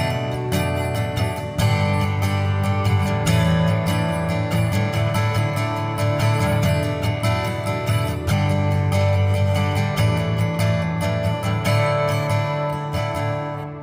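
Acoustic guitar plays verse 3 of the worship song "King of Kings" through a Line 6 Helix, sounding as a full, continuous strummed passage with sustained chords and layered texture that keeps steady without pauses.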